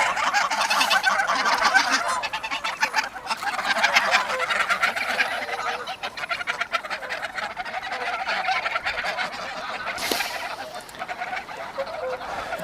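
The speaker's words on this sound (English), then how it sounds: "like whooper swans and grey-lag geese and ducks" Many waterfowl, including whooper swans, greylag geese and ducks, honk and quack at once in a busy, continuous chorus at a pond in Reykjavik, with a few louder calls standing out near the start and around the middle.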